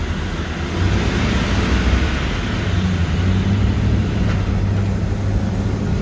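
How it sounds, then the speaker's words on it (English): Steady, loud traffic roar on the west side of upper Midtown Manhattan, with low engine rumble from buses and other vehicles filling the whole stretch without a break. "Lots of buses come into Manhattan."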